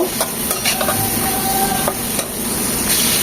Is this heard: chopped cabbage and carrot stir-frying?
yes